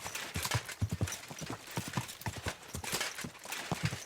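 Horse hooves clip-clop in a steady, brisk rhythm in Kingdom Come Deliverance 2, close and fairly quiet, with repeated sharp strikes on the ground throughout.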